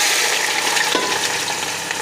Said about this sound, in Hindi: ये हमने प्याज डाल दिए हैं और इसको बिल्कुल हल्का गोल्डन फ्राई कर लेंगे